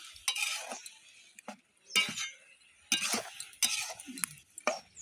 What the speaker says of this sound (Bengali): খুন্তি দিয়ে আবার ভালো করে নেড়ে নিতে হবে।